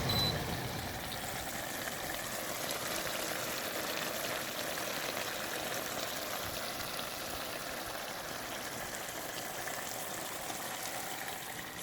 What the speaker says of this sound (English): I'm going to add the beans and put it on simmer for a couple of hours. I'm going to turn the fan off so you can hear it.